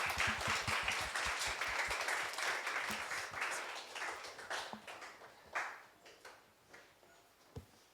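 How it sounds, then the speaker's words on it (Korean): Audience applause welcoming a guest speaker at a church worship service: dense, sustained clapping that starts loud and gradually thins into a few scattered claps, ending with a single sharp clap. "拍手でお迎えしてください。"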